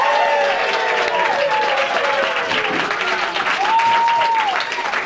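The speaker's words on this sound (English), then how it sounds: "Can you shout, applause, do something?" A radio talk show's studio audience breaks into sustained applause mixed with whoops and cheering voices, the clapping dense and steady throughout at a moderate, close level.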